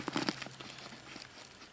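A Velcro tab is pressed closed on a rugged Molle laptop bag, giving a short burst of crinkly, rasping fabric contact up close, then quieter rustling and handling.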